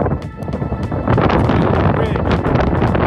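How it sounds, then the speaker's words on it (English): Strong wind buffeting a microphone on a desert mountain hike, a loud, continuous rumbling roar that surges and thickens partway through. "the wind has been just punishing me for the past couple of hours"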